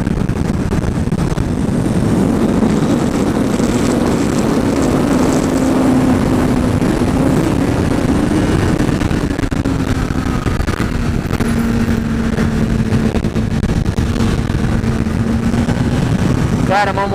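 A 2014 Honda CBR 1000 RR Fireblade runs while being ridden, its engine a steady drone with a rising and falling pitch under strong wind rush.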